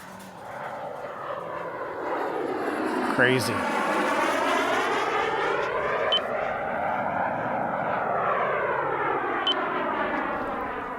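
Twin-engine KRILL ARES L RC jet on its maiden flight, a loud sustained turbine roar with a wavering Doppler pitch as it sweeps past, below full power; a person speaks briefly over it.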